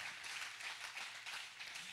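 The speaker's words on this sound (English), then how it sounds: "How many could clap on that?" A church congregation clapping together, a soft, steady patter of many hands heard at a distance.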